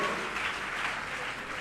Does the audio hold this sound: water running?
no